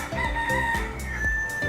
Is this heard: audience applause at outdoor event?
no